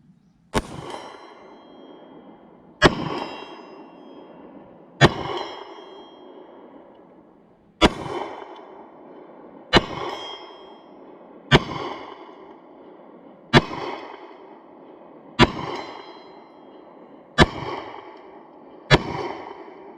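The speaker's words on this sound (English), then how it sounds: "we'll take some shots, see if we can connect any" An H&K P30S 9mm pistol fires at steel targets about 70 yards out: roughly ten sharp reports spaced about two seconds apart, each followed by a ringing metallic clang, with no talking.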